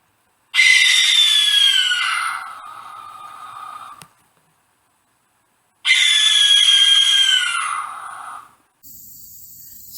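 Two long, harsh, hissing screeches from a barn owl, each lasting about two seconds, loud and close, separated by silence.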